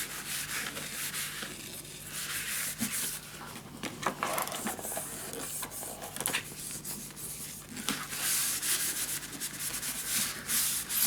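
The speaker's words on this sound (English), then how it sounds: "burnish it down." Paper being burnished down by hand on a scrapbook mini album page, a steady close scratchy rubbing that continues for the whole stretch with uneven strokes and no talk.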